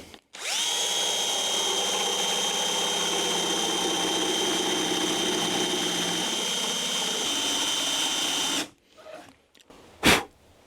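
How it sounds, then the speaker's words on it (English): A 12-volt cordless drill runs steadily with an old attachment tool fitted, giving a loud, continuous whine with strong harmonics for about eight seconds before stopping abruptly, followed by a brief clunk. "12-volt drill that I'm going to get this attached to."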